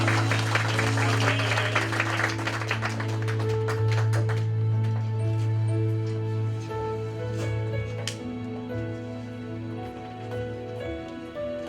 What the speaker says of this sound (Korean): 우리 하나님의 영광의 박수 드립니다.